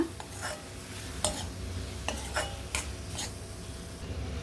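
Seasonal fruits are sautéed in ghee in a pan under a soft, steady sizzle. A spoon scrapes and taps against the pan at irregular intervals, and no one speaks.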